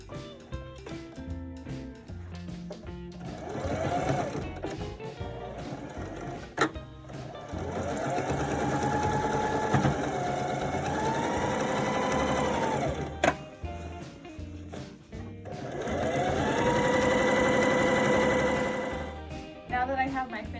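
A sewing machine straight-stitching along the hem of a ribbon skirt, running in several sustained bursts with short pauses between them, close and clear, with a voice talking over parts of it.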